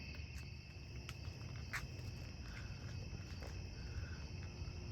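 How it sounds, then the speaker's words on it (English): Crickets chirping at night around 3:30 a.m. under the moon, a dense, continuous outdoor chorus of high trills heard at a fair distance, with a few sharper clicks and faint low background rumble throughout. "You can hear all the crickets"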